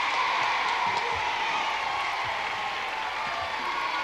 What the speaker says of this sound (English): Can we give them both a nice big round of applause?